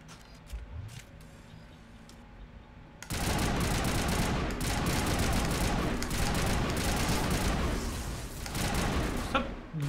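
Assault rifle fire in the video game Mass Effect breaks out suddenly after a quieter stretch, then sustains as loud, dense automatic bursts for several seconds before briefly easing.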